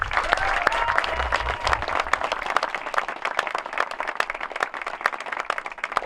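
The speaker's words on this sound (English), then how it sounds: "Please join me in a round of applause for the leadership and staff of the Career Pathways program" A modest audience at a career pathways program celebration gives a round of applause, scattered distinct claps building into steady clapping that continues to the end.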